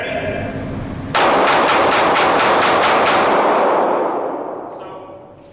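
Rapid burst of about eight gunshots at an indoor shooting range, loud, reverberant and harsh, each crack ringing off hard walls, followed by a fading echo tail.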